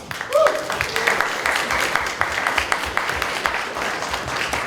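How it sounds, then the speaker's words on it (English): A convention crowd at a Gen Con improv Dungeons & Dragons show offers thin, scattered clapping, individual claps clearly separable in an uneven patter that never builds into full applause. "I'm sorry, that sounded like pity claps."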